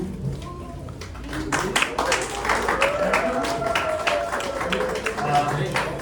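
An audience applauds the participants at a school painting competition in Gandaki Province: a patter of many hands clapping at moderate loudness, mixed with a voice talking over it.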